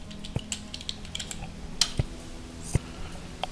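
A few separate keystrokes on a computer keyboard at a command prompt, sparse, crisp clicks spaced irregularly over a faint background hum.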